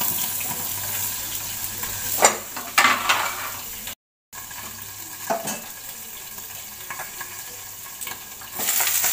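Beans sizzle in a pan that is then covered, a steady close frying hiss with a few louder bursts and clinks, a sudden brief silence midway, and the sizzle swelling again at the end.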